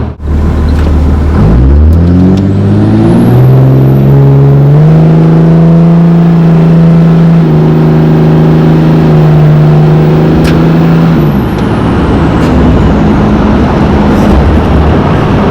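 A 760 hp Cummins diesel truck racing a Dodge Charger Hemi RT, a loud close engine pull with the pitch climbing through gear changes, holding a strong drone, then dropping into road and wind roar.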